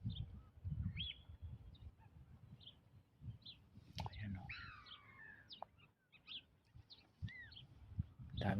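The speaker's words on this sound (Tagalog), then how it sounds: "Daming ibon." Many birds call at a seaside lagoon in Matua, New Zealand, with scattered short chirps and tweets, some near and some distant, over a low outdoor rumble while a person speaks quietly.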